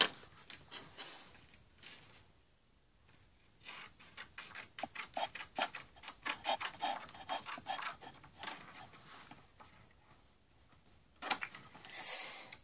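A cardboard box for a Ninjago store display being cut open, heard as a close, quiet series of rasping, scratching strokes with short pauses between bursts.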